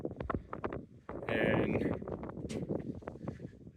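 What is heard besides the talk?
wind blowing on a mountain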